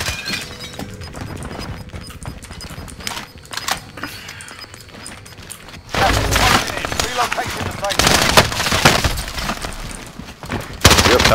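Gunfire in a Call of Duty Resurgence-style shooter sounds in rapid bursts over busy game noise, getting denser and louder partway through, with a player talking over it.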